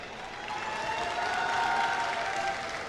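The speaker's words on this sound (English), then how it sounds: "Can we have a round of applause for both the teams," Spectators at the 2023 ABU Robocon robotics contest in New Delhi applaud both teams after a match. Broad, steady clapping swells slightly in the middle, with a faint tonal ring running beneath it.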